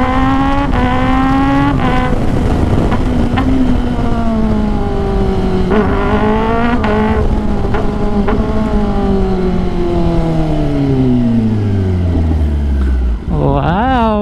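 A 2022 Kawasaki ZX10R motorcycle's engine and exhaust rev loudly and continuously, the pitch sweeping up and down through gear changes at high revs, with a rider speaking over the engine.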